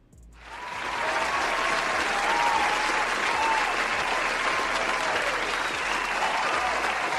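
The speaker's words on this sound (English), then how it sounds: "So you guys give yourself an applause." Applause from a small audience rises quickly from quiet into steady, even clapping that holds at moderate loudness for several seconds without letting up.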